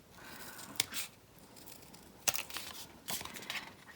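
Scissors snip the sides off a paper bookmark, a few crisp separate cuts with quiet handling between them, close and clear.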